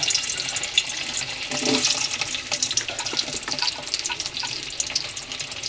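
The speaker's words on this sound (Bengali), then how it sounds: "এবার আমি দুটো চারটে করে আলু ছেড়ে আলুগুলোকে ভেজে নেব।" Potatoes frying in hot oil in a wok, giving a steady hissing sizzle with crackling that persists across the whole stretch, close and fairly loud, with no talking.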